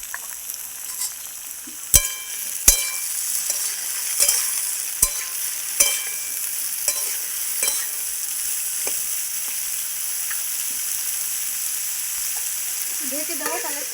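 Spine gourd (kakrol) sizzling and frying in a pan, with a steady hiss and a series of sharp scraping or tapping stirs spaced every second or so, close up and without talk.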